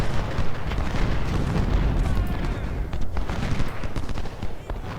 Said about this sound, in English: Howitzers, now please focus your fire on Anderson.